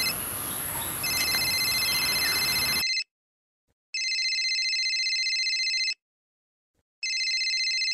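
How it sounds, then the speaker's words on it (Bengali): A phone rings in a repeating electronic pattern, each loud, bright ring lasting about two seconds and separated by short silences, starting after a few seconds of noisy outdoor background. "আমার ফোনটা রিসিভ করে আসি।"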